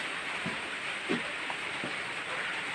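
Steady rain falls during a typhoon at signal no. 3 in Isabela, a constant dense hiss with a few faint low thumps, no voices heard.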